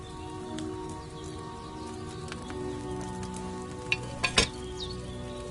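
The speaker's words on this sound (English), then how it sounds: "Hear that bubbling? It's boiling." A potion bubbles and simmers in a cauldron over a flame in Kingdom Come Deliverance II, a steady soft crackling fizz with a few sharp pops near the end, heard alone without talk.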